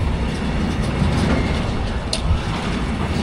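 Freight train rolling past outdoors, a steady loud rumble with faint clattering of wagons and a brief squeal, continuous throughout with no talk.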